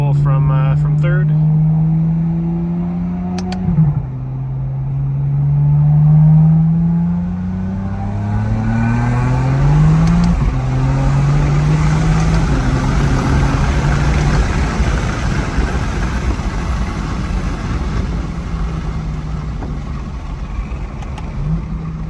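A BMW G87 M2 tuned on E85 fuel pulls hard from third gear, its engine note climbing loudly through two rising sweeps with a gear shift between, then settling into a rough roar as a voice talks over it.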